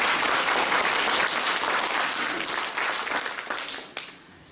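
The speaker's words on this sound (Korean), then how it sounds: "박수 한번 쳐주세요" Sustained audience applause fills a Korean political talk concert, dense clapping from a crowd at steady strength before tapering off near the end.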